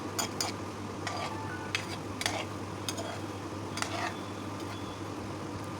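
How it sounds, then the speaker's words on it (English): Gulab jamun frying in oil at low temperature, giving a steady gentle sizzle with faint clicks and occasional soft stirring taps, no voices. "I'm going to fry in a very low temperature."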